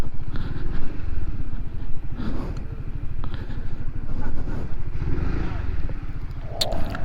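A motorcycle fitted with a Thai-style sidecar rolls up with a low, steady engine rumble close by. Light rattles and scrapes come through, and people talk over it.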